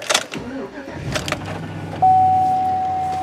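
An old, rusty truck engine cranks and catches, then settles into a steady loud idle with a sustained whine, heard up close.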